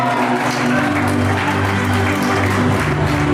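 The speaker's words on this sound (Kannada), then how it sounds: "ನಿಮ್ಮೆಲ್ಲರ ಜೋರಾದ ಚಪ್ಪಾಳೆ ಬರಲಿ ಗೌತಮಿ ಅವರಿಗೆ." Loud, steady audience applause fills a state-level award ceremony hall, continuous dense clapping throughout with a faint crowd murmur beneath.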